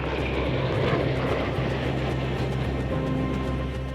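Red Arrows jet aircraft flying as a five-ship formation in bad weather produce a steady, loud engine roar with a droning low hum, continuous and close throughout, without voices.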